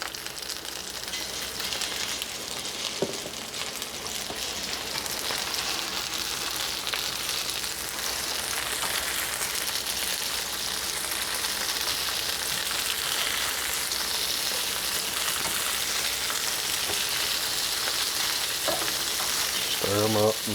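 Shishito peppers seasoned with black pepper and salt fry in a pan, giving a long, steady, rain-like sizzle, with occasional clicks and scrapes as they are stirred around.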